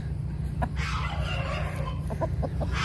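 Backyard chickens in a Central Florida food forest cluck and call close by, a few short clucks and a drawn-out vocalization over a steady low hum.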